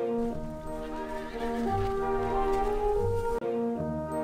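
A horse whinnies loudly in the Barbie Riding Club video game, its layered neigh carrying across nearly the whole span over steady hoofbeats, with a brief cut near the end before the riding sound resumes.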